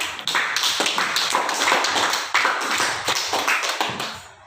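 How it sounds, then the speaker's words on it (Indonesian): A school class applauds after a group presentation, with dense, lively clapping from many hands that keeps going at full strength throughout, close and loud, with no speech over it. "Oke, beri aplaus dulu ya"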